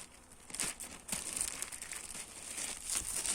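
Plastic bags being opened and crinkled by hand during beehive work, a steady close-up rustling with sharper crackles throughout and no talking.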